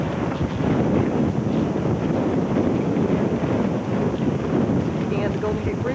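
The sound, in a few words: wind blowing on a hilltop overlooking San Francisco Bay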